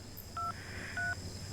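Two short touch-tone beeps from a phone keypad, evenly spaced, over a steady low background hum.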